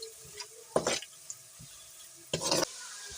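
Cumin, bay leaf and cardamom stirred in a pot, heard as two short scraping, sizzling bursts of a spoon working through the spices, with faint clicks between them and no talk.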